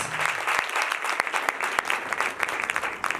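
Sustained clapping from a church congregation at a Sunday service on blessings and anointing, a thick crowd texture with scattered louder individual claps, fairly close and continuous for the whole stretch.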